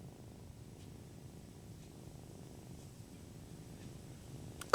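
A kitten purrs steadily and softly, close up, a continuous low rumbling flutter with no voices, ending with a faint click.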